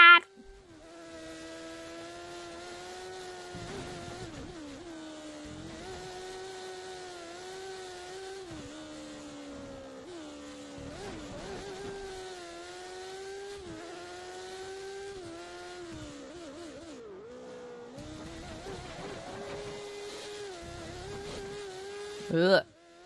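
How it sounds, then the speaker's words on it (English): Formula 1 car engine in the F1 2013 racing video game, a continuous buzzing high-revving drone that rises and drops with gear shifts and throttle, steady and fairly faint throughout. "I keep wondering if the brrrr is me fucking up or that's just how the engine sounds."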